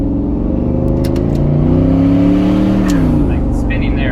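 A 1991 turbocharged Chevrolet Silverado pickup accelerating hard, its engine note climbing loud and close with a rising whine as the tires spin, and a short chirp near the end.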